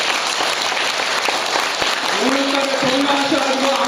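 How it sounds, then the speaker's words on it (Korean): Audience at a church gathering gives a round of thanks-applause for a devoted member, a dense, steady clapping that fills the room throughout, with a voice rising faintly near the end. "감사의 박수 한번"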